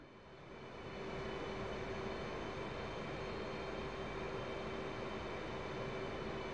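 In the DCS World flight simulator, an aircraft engine roars steadily as the jet approaches a carrier deck to land. The loud, even drone rises in the first second and then holds, with a faint tonal whine and no voices.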